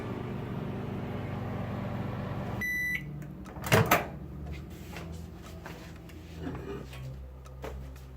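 A microwave oven melting candy hums steadily for a few seconds, then stops with a series of beeps, followed by a door clunk and light handling sounds nearby.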